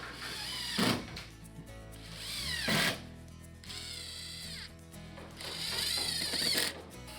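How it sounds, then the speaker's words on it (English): A power drill driving colour-matched composite deck screws into deck boards, three loud whining bursts with brief pauses between them, close by over a faint background hum. "fastened it down with color-matched composite deck screws"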